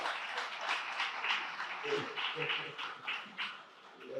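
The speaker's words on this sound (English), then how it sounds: "Can we all clap for the National Orthopedic Hospital?" Audience clapping at a hospital recognition event, a moderate scattered patter of hands with voices murmuring beneath, fairly quiet and uneven.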